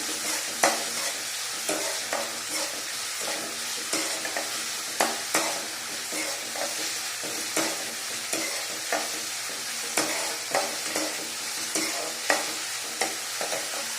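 Food fries in a pan with an even, steady sizzle while a spoon stirs it in regular scraping knocks every second or so, close and clear, with no talking.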